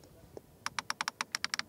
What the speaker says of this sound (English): They also thought about a nice clicking sound.